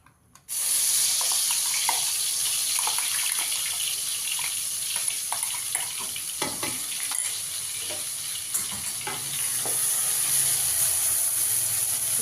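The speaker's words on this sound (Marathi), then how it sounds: "ही तेलात भाजून घ्यायची आता." Blended spice masala puree frying in hot oil in a home kitchen, a loud continuous sizzle and hiss that starts abruptly and holds steady with small crackles, no talking.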